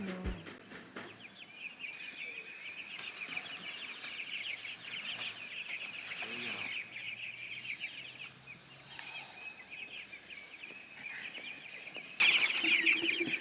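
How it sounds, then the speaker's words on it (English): Chickens cluck and murmur continuously nearby on a farm, with a few louder calls standing out and a brief burst of noise near the end. "I have a chicken that's refusing to move."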